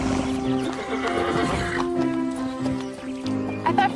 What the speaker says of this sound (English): Big horse.